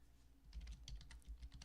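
Rapid keystrokes on a computer keyboard during a storefront live stream, a steady close run of light clicks and taps with no talking.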